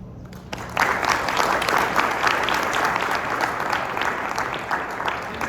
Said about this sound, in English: Can we just give another big round of applause?